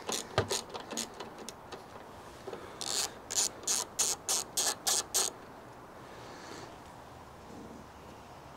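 A ratchet wrench loosens a 10 mm nut at the back of a Skoda Octavia bonnet hinge, giving bursts of close, sharp clicking in quick rhythmic strokes with short pauses between, alone with no talk.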